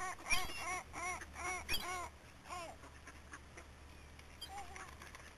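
Ducks being fed at lunchtime quack in loud, excited bursts close by, several calls overlapping in rapid clusters that thin out toward the end, with faint background noise and no clear talking.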